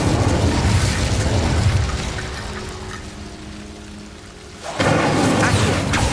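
Incendio fire spell cast in Hogwarts Legacy on PS5: a rushing, crackling burst of flame that fades and thins, then erupts again in a sudden loud blast near the end.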